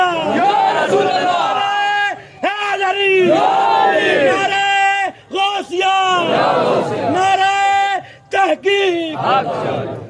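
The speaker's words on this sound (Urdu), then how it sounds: "پنج نعرے پنجتنی سالک نعرے حیدرے نعرے حیدرے" A crowd at a Milad religious gathering chants Nara-e-Haidari slogans, loud call-and-response shouts in repeated surges with brief gaps, many voices together and close.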